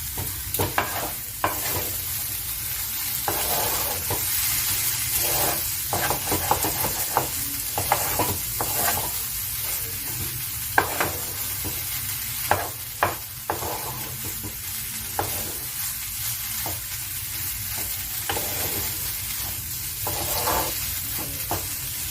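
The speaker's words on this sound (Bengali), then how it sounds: "এবার এটাকে আমি আস্তে আস্তে ভাজা করে নিচ্ছি" Young jackfruit core frying slowly in a pan, a constant hissing sizzle broken by frequent scraping stirs of a spatula, near and loud with no voices.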